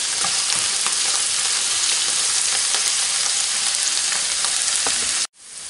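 Wild greens (collejas) sizzle and crackle steadily in a pan over medium heat while being stirred, a continuous loud frying hiss with light scraping, cutting off abruptly near the end.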